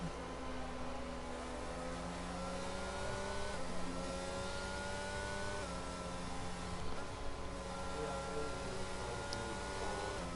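Race car engines drone steadily in Automobilista 2 at Monza during a safety car period, several cars holding even, sustained tones with slight pitch shifts, continuous and moderately loud.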